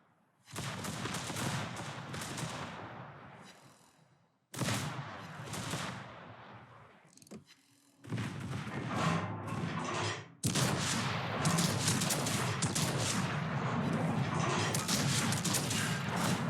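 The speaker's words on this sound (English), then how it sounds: "You see how much faster the guns are firing?" The main guns of the battleship Libertad fire in a naval video game, heavy booming salvos arriving in separate loud bursts, then a sustained thundering barrage of rapid shots with no voices.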